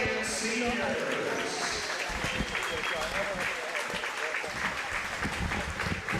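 Sustained applause from a crowd at a volleyball game honoring senior players, dense steady clapping filling the whole stretch with a few cheers mixed in.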